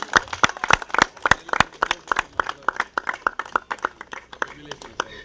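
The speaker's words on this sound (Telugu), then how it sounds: "ప్రతి ఒక్కరు చప్పట్లు కూడా వెల్కమ్ చెప్పాలి సార్ గారికి అందరు ప్రతి ఒక్కరు" An audience claps to welcome a speaker onto the stage at a municipal election campaign event, sharp individual claps in a fairly quick uneven rhythm, close by and thinning toward the end.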